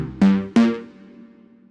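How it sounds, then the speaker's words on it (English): The default patch of the Analog Dreams synthesizer in Kontakt 6 sounds two quick bright notes that swell and fade with a soft decaying tail, close and alone. "And the default patch just sounds like this"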